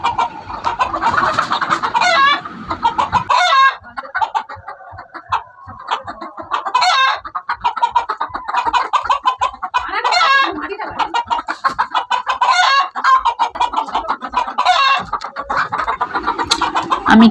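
Chickens, including a hen with feathered feet, cluck close by in a rapid, chattering rhythm that continues throughout, with occasional louder calls and a person talking at times.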